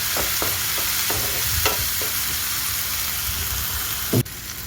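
Grated ginger and spices fry in a pan for a home-cooked paneer dish, a steady close sizzle punctuated by several soft scraping stirs and one sharp clack near the end.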